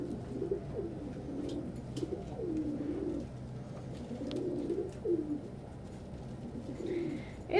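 Pet pigeons or doves coo softly and repeatedly in a quiet indoor space, low rolling calls recurring every second or two, with faint chirps near the end.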